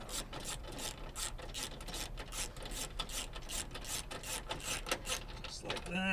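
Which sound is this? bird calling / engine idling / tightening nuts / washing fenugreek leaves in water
tightening nuts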